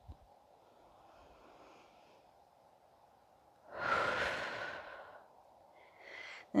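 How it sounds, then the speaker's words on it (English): A yoga practitioner takes a slow round of breath during a power flow, with one long, breathy exhale swelling up near the microphone and fading, then a shorter breath follows against a quiet room. "One more round of breath."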